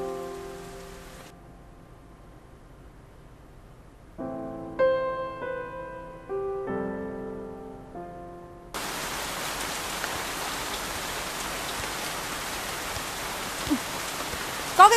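Heavy rain falls in an abandoned park scene from a Vietnamese television drama. It breaks in as a loud, dense, steady hiss partway through, following a stretch of soft melodic music.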